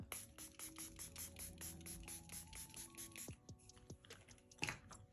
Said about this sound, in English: Again, I'm gonna spray my face again.